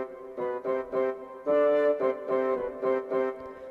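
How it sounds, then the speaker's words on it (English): A Yamaha Genos 2 keyboard plays its theater orchestra voice, with a rhythmic pattern of bright, layered chords, some short and some sustained, sounding close and clear with no talking. "But I decided to combine it with theater orchestra, which by itself sounds like this."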